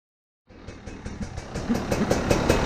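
A KTM 300 XCW TPI two-stroke dirt bike engine starts after a moment of silence and idles while warming up, with a fast, burbling pulse that grows slightly louder and rougher as it settles, nearby.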